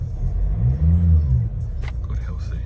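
A 2013 Ford S-Max 2.2 TDCi diesel automatic cranks and catches, with a deep swelling rumble that settles into a steady low idle close by.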